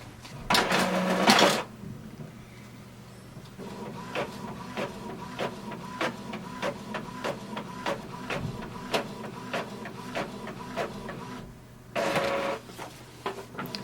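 An Epson XP-4100 inkjet printer runs through a test page: a loud mechanical whir at the start, then steady rhythmic clicks and feed ticks, ending with another loud whir.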